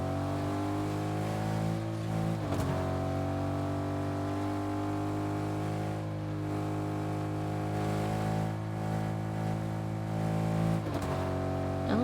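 Steady engine drone of a car being driven in the video game Fortnite, holding a constant pitch under game music, with a couple of brief bumps or revs along the way and no talking.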